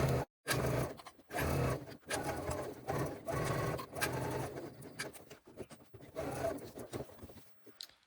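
A sewing machine fitted with a walking foot stitches through layered fabric around a bag edge, running in short bursts of rapid mechanical whirring separated by brief stops, close and clear with no talking.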